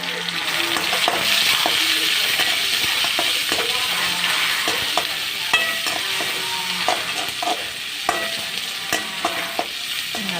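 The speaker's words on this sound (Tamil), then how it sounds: "நல்லா வதங்கட்டும்." Chopped onion sautéing in a pan for a tamarind curry, an ongoing soft sizzle with frequent scrapes and taps of a spoon stirring against the pan, close and steady without talk.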